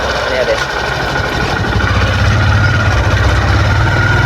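A motorcycle engine runs steadily on a ride out to a canal for a bike wash, a loud, close, continuous rumble with a slight rise in intensity partway through.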